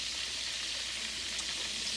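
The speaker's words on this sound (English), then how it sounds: "we got our chicken frying" Chicken frying in a pan, a steady dense hiss of sizzling oil that holds constant and fairly faint throughout, with no voices.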